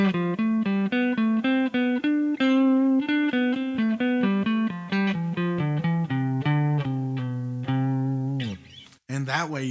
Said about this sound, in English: you play the notes of the scale in a different sequence, in a different order, and it would sound something like this